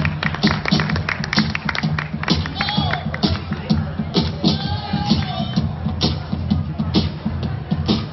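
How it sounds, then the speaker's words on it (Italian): Audience at an Italian cosplay event claps for two contestants costumed as Nana and Kaoru, a steady burst of close crowd applause with murmuring voices and some talk woven through. "un bel applauso pubblico"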